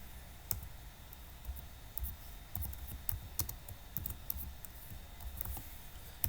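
Keys clatter on a computer keyboard while text is entered in a Word document, a quiet run of irregular clicks and taps close by with a few sharper strokes, no voices.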